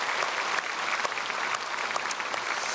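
Church congregation at a Sunday worship service applauding loudly after a choir hymn, a thick, even wash of many hands clapping close by with a few sharper individual claps standing out.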